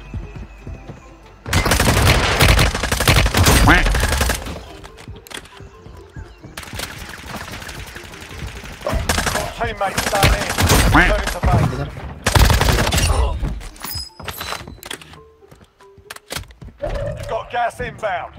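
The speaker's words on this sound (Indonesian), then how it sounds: "Ada nembakin gua." Enemy gunfire in a battle royale shooter, loud bursts of rapid shots in several waves with pauses between, close and harsh, with a player speaking at times.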